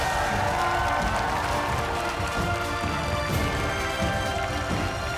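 Studio audience on a Russian TV talent show, "Amazing People", applauding and cheering in a steady, loud, dense wash of clapping that runs the whole time with no break.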